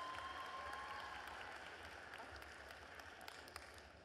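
Graduates at a Mount Royal University convocation applaud and cheer in a large hall, a steady wash of clapping that is fairly faint and fades slightly over the few seconds.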